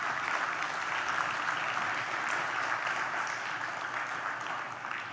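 Sustained audience applause fills a neuroscience symposium hall, a dense, steady wash of clapping from a large crowd that holds at an even level throughout without any voices above it.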